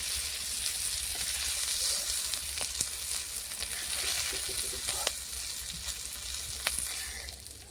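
Shrimp frying in oil in a kadai, a steady continuous sizzle with faint crackles and occasional utensil clicks, moderately loud and close, with no voices.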